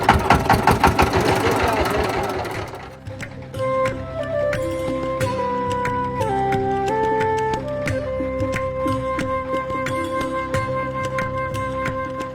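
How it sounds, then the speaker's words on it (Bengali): A motor boat engine chugs loudly on a river as the boat heads toward Char Ashariadaha; the rapid pulsing fills the first few seconds, then melodic music takes over with a low rumble underneath. "নৌকা চলছে চর আষাঢ়িয়া দহ অভিমুখে।"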